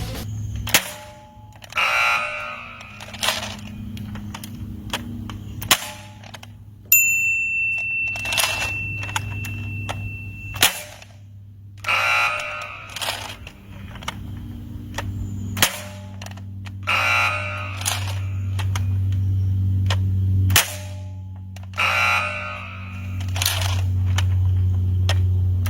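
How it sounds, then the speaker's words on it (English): An Adventure Force Thundershot toy revolver fires repeatedly in a long-range accuracy test outdoors, giving sharp cracks spaced a few seconds apart over a steady hum, with metallic clicks and rattles in between. "now I'm going to do a long-range accuracy test by shooting at DJ Yonder over there"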